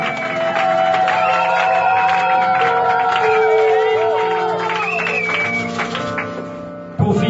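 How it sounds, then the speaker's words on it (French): A church congregation shouts and cheers loudly in acclamation of God, a dense mass of raised voices with sustained calls that rise and fall together, then cut off abruptly near the end. "acclame Dieu très fort"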